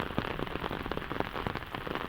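Sudden heavy rain pours down, a dense, steady patter of drops striking a hard surface close by with no voices over it.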